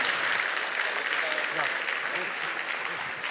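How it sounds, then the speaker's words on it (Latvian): Conference audience at a Samsung Knox stage talk gives steady, fairly quiet applause to thank the first speaker, with a voice faintly heard beneath the clapping. "mēs varam ar aplausiem pateikties mūsu pirmajam lektoram"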